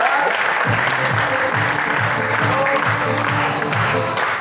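A crowd claps loudly and steadily for a few seconds, dense applause filling the space with a voice faintly underneath.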